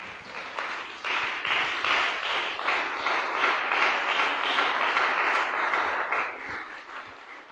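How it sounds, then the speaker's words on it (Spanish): A church congregation claps and applauds during a Sunday service, a loud, continuous wash of many hands that rises quickly, holds steady, then tapers off near the end. "dale un gran aplauso al Señor"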